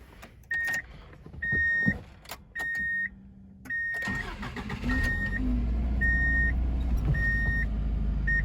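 A 1998 Subaru Legacy Outback manual's engine cranks and starts, then settles into a steady idle, preceded by several repeated electronic chimes and a few clicks.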